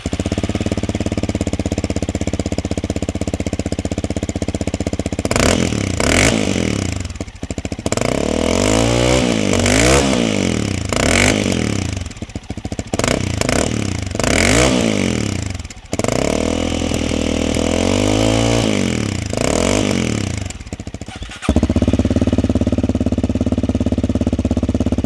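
Honda CRF300L dirt bike fitted with an aftermarket exhaust, loud and close: a steady idle, then repeated sharp revs rising and falling in bursts before settling back to idle.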